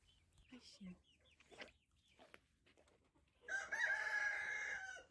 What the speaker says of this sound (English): I have time to feed the chicken and to visit my best friend Blue. He sings a lot together with the chicken